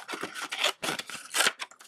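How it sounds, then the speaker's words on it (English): Scissors cut a strip from a piece of cardstock at a desk, a quick series of crisp snipping and rustling strokes, close up and alone without talk. "just a regular old piece of cardstock that I'm going to cut into a strip"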